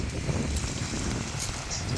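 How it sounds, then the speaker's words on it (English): Strong wind buffets the microphone beside a river, a steady low roar with broadband rushing that never lets up through the whole stretch. "Man, it's windy."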